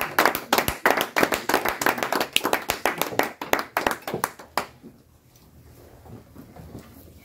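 A church audience breaks into dense, loud applause to welcome Doctor Caleb as he comes up to speak, the clapping rolling on for over four seconds before stopping abruptly into a quiet room.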